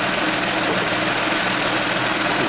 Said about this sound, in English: It's the power steering belt.